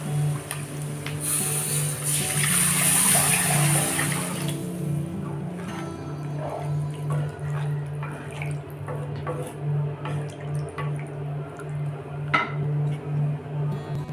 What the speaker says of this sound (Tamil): நம்ம புளி கரைச்சல் வச்சுருக்கோம் பார்த்தீங்களா, இதை வந்து இதோடு சேர்த்துடலாம்